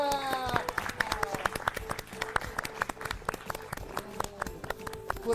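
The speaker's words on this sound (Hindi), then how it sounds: "हो जाए जोरदार तालियां।" Studio audience applause on an educational TV program, rhythmic clapping with sharp individual claps under music, steady and moderately loud throughout.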